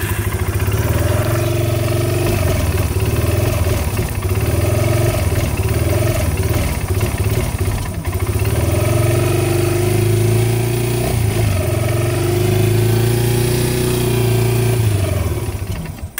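An ATV engine runs at a steady, loud idle with a carburetor that won't let it throttle up. It drones on evenly throughout without any revving.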